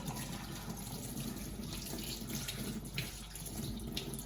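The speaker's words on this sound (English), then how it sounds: "So then we just turn the tap on." Water runs steadily from a tap as soap is rinsed off hands at a sink, a continuous close hiss with faint splashing changes throughout.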